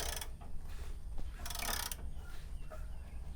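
A ratchet tightens a bolt while work is done on a lifted vehicle, heard as a few short bursts of clicking, with one louder burst in the middle, over a quiet background and without talk.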